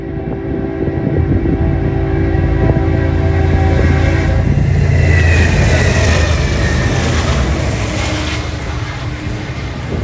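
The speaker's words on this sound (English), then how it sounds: "Here in Greenville, trains 222 and 265 are guaranteed to have foreign power." A freight train on a Norfolk Southern line in Greenville, South Carolina rolls past close by, a loud sustained rumble of wheels and cars with a brief horn-like tone and rising screech midway.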